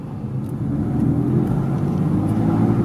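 A car accelerates under app-controlled throttle tuning, its engine giving a steady close hum that builds slightly in loudness over a few seconds, with no talking.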